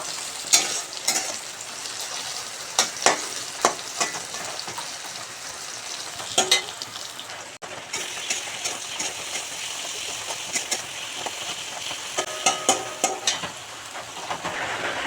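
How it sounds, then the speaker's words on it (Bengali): Spices with mustard seeds, salt and turmeric frying in a pan, with a continuous hiss of sizzling and repeated scraping stirs at close range, no talking. "এটা ভাজা ভাজা হচ্ছে"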